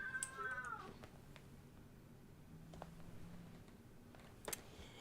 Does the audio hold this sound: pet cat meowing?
yes